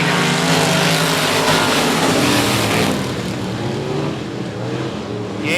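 Race cars roaring around the 105 Speedway oval under green flag racing, a loud continuous engine drone that swells and then eases slightly as the pack passes.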